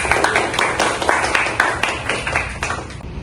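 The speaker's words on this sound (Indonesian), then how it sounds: "Tepuk tangan dulu untuk kelompok 2." Students in a class session applauding a presenting group, a short burst of brisk, fairly close hand claps that gradually thins out.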